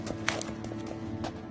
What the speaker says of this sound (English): Another horse.